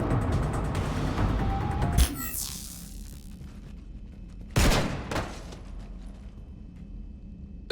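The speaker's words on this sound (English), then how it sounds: "I meant for that to be a warning shot" Two sharp gunshots ring out in the video game Mass Effect 3, each a loud crack with a trailing echo spaced a few seconds apart, over a low background of game ambience and faint mechanical sounds.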